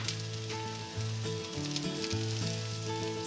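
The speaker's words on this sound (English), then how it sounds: "Fry for a few minutes on both sides until nice and golden." Aubergines fry in groundnut oil with a steady, close sizzle and crackle, heard alone under a sustained tonal music bed.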